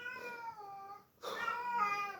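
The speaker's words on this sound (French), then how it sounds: "j'ai jamais eu un chat qui parlait autant" A pet cat meows repeatedly and insistently indoors, with long drawn-out calls close by, separated by a brief pause.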